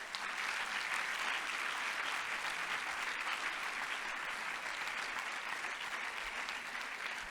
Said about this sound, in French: J'aimerais qu'on applaudisse extraordinairement fort, fort, fort Charlotte Mazzini.